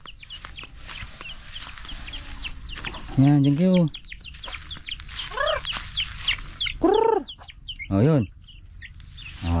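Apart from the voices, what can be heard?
chickens clucking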